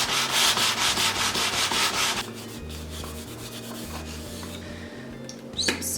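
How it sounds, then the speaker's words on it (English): Sandpaper rubs back and forth along wooden edges in steady, close strokes, a dry rhythmic scraping that softens into lighter rubbing before a final louder scuff. "I'm also going to sand down every edge and just the top here because I'm going to paint all of that."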